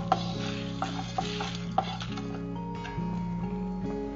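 Coriander, pepper, fennel, cumin and dried chillies dry roast on a tawa, with a soft rustling sizzle and a few sharp scraping clinks of a spatula stirring the spices close by.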